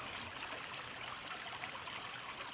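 Spring water moving along a small open stream, a faint steady trickle and babble at low level, continuous with no voices.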